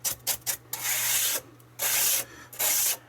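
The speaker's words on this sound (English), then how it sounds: "Just brushing the dust out of here." An ordinary toothbrush scrubs dust out of an Amiga 500 computer: close, loud bristly rasping strokes, a few short quick ones followed by three longer sweeps with brief pauses between, over a faint steady hum.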